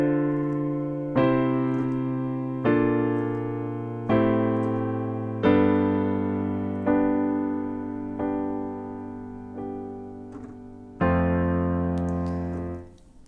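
Piano chords for the bridge of Shawn Mendes' 24 Hours, an easy accompaniment with eight sustained block chords struck one after another at a slow, even pace, each ringing out and decaying before the next, with no voices.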